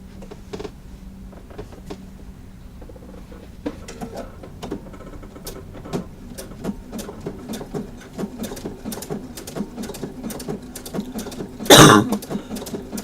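A sewing machine works a blanket stitch along a fabric edge, with faint irregular ticks and taps in a loose rhythm and one brief loud burst near the end.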